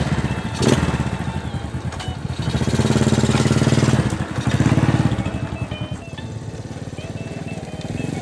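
A motorcycle engine runs close by, rumbling steadily and swelling louder in a couple of revs midway before settling back to a rough idle.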